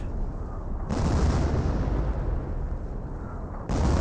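Off-map artillery barrage in the strategy game Company of Heroes, loud, rumbling shell blasts that overlap into a heavy continuous roar, with a fresh impact hitting sharply near the end.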